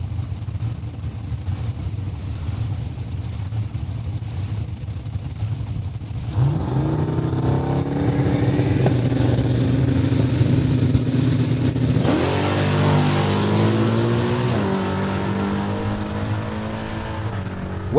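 A 1969 Chevelle and a rival car launch down the quarter-mile drag strip at Saskatchewan International Raceway, engines swelling from a low idle into loud, rising revs through the gear changes, with an abrupt burst of intense wide-open roar partway through.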